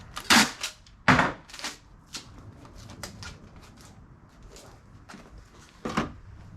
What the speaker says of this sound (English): Let's tape it.